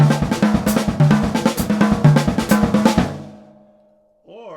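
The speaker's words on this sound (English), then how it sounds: "So I'll use my left hand between the snare drum and the high tom." Bebop drum lick played with the left hand moving between the snare drum and the high tom, a brisk run of close, loud strokes in steady rhythm for about three seconds, then a decaying ring and a brief tonal sound at the end.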